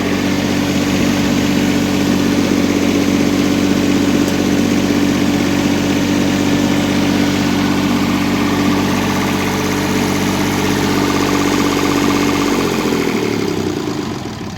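A GAB-4 generator converted to diesel runs steadily at close range with a loud, even engine drone, then starts winding down near the end, the pitch dropping as it slows.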